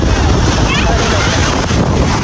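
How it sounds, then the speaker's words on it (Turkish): Strong seaside wind buffets the microphone in a loud, continuous roar, with the sea rushing steadily beneath it. "çok rüzgar var. Deniz sesi çok."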